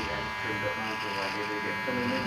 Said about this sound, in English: just teeth of the clipper, freehand in